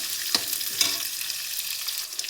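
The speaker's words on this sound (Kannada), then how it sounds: "ಸೊ ಈರುಳ್ಳಿನ ಅಷ್ಟೇ ಚೆನ್ನಾಗಿ ಇದರಲ್ಲಿ ಫ್ರೈ ಮಾಡ್ಕೊಳ್ಳಿ" Onions sizzling and frying in a pan for a ridged gourd stir-fry, a steady hiss with a couple of sharper stirring clatters near the start, fairly close and without any talk.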